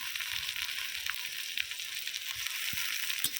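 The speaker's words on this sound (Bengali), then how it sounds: "মশলাটা খুব ভালো করে কষিয়ে নেব" Garlic and ginger paste sizzles and fries in a spice masala for chicken curry, a steady bright crackle that holds throughout, broken by faint scraping stirs.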